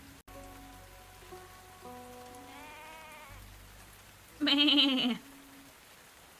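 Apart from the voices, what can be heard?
rain in Tavern Talk video game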